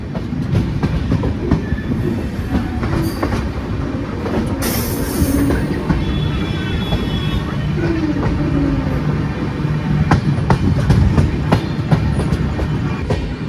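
The Karnataka Sampark Kranti express train rushes past close by, its wheels rattling and clacking rapidly over the rails with occasional metallic squeals, loud throughout.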